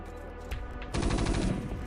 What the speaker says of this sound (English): a round of gunfire echoes as the Matador's armor barely holds under the combined weight of multiple stimmed Mavericks